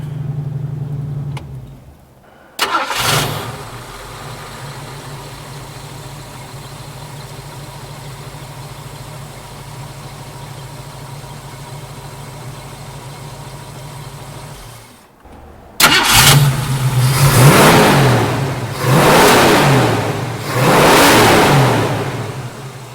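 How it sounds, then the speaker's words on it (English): A 1965 Ford Mustang engine cranks and catches, settles into a steady idle, then is restarted and revved in several loud rising surges close by. "Start it up here"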